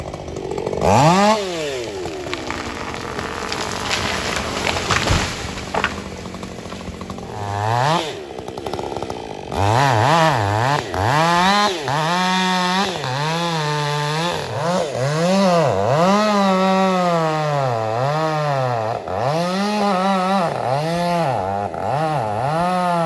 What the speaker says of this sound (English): So Dylan on the chainsaw could go ahead, start cutting that tree and dropping it in this direction here.